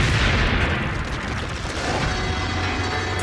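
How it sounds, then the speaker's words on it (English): A hand grenade detonates, its loud deep boom filling the whole span and rumbling on as a low, sustained roar with no voices present. "Approximately 5 seconds later, the grenade detonates."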